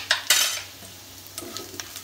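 A spoon scrapes and stirs ground whole garam masala through a pan over low flame for Kashmiri pulao, a few sharp clinks and scrapes followed by lighter stirring, close up and without talk.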